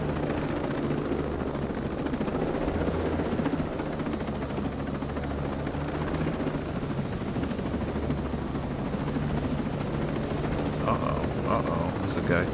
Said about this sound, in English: Does not see or hear the helicopter.